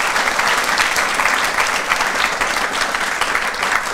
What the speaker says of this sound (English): I think it's worth clapping our hands for these